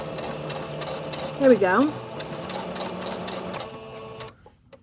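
A sewing machine stitches lace onto a fabric collage in one short whirring burst mid-clip, with someone speaking briefly around it.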